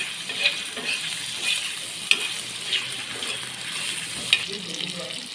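Fish frying in a pan with plenty of garlic, a steady close sizzle with soft stirring scrapes and a few sharper spatters and clinks scattered through, no voices.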